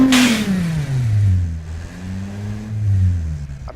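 Alfa Romeo Giulia 2.9-litre twin-turbo six-cylinder engine revving loudly and close, a quick sharp blip at the start followed by sustained rising and falling engine tone across the whole stretch.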